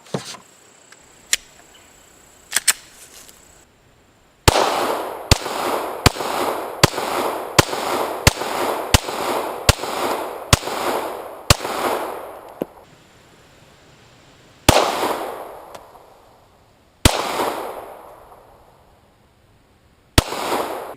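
Gunshots from a Glock 22 Gen 4 pistol on a range: sharp, loud cracks, a few spaced single shots, then a rapid string of about a dozen, followed by a few more spaced shots with echoing tails.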